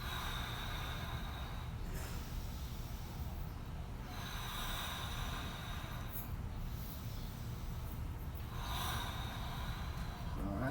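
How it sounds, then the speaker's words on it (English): A person takes slow, deep breaths during a morning mobility session, with several long airy inhales and exhales spaced a few seconds apart over a steady background hum. "Deep inhale, deep exhale."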